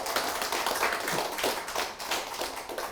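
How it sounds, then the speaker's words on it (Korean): An audience claps in a lecture hall, a dense, steady round of applause that continues without break, with sharp individual hand claps audible inside the broad wash. "여러분 박수를 한번 보내주시기 바랍니다."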